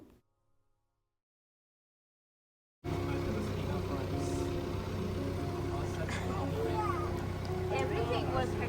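A steady tractor engine rumbles loudly after a few seconds of near silence, running continuously with a low, constant drone during a ride on a pumpkin farm in California.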